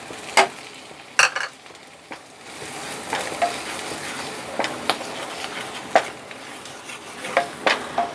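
Ginger paste and chili powder sautéing in a pan for butter paneer masala, a soft continuous sizzle punctuated by sharp scraping clinks of a spoon stirring against the pan.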